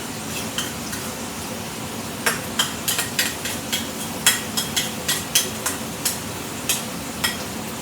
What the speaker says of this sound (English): We're going to give those time to saute